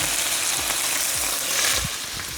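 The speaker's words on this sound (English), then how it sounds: "Listen to those pork chops." Pork chops and bacon frying in a pan: a dense, steady sizzle fills the whole stretch at close range with no voices.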